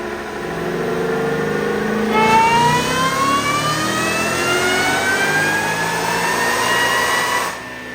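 A Ford Mustang fitted with a Roush max-effort setup revs hard through a rear-wheel dyno pull, its engine note climbing steadily in pitch for several seconds before cutting off, loud and close with no talking.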